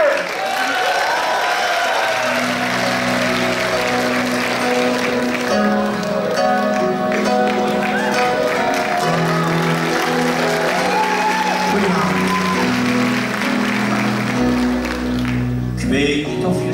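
Audience applause and cheering at the Mister Gay Belgium 2019 show as a singer is introduced to perform a song, a steady dense clapping with whoops under a constant music bed, loud throughout.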